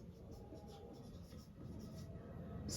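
Pen scratches on paper in quick, soft strokes, faint and close, with a low background hum.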